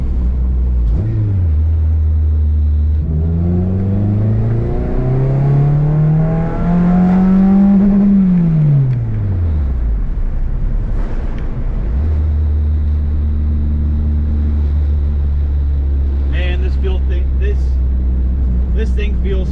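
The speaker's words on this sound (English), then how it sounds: "Do a little third gear pull." A car accelerates hard in third gear, its engine note climbing steadily as it revs up, then dropping away and settling to a steady drone, loud and close inside the cabin with someone talking over it.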